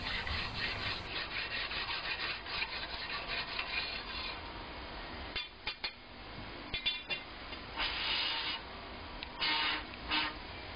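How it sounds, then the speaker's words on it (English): Rapid scratchy rasping of abrasives stuck to a copper tube rubbing back and forth inside a tube on a 1949 AC 2 Litre chassis, in uneven strokes with brief pauses, close and fairly loud. "Here I'm sanding the inside with abrasives stuck to a copper tube."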